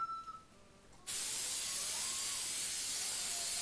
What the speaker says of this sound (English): I'm going to spray that with a nonstick spray